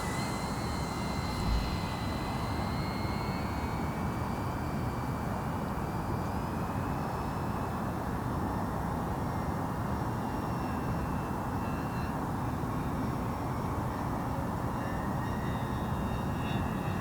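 An E-Flite Beechcraft D18 1.5m twin-engine RC model airplane flies steadily overhead, its continuous electric motor drone and whining propeller tones shifting slightly in pitch as it circles, with no talk.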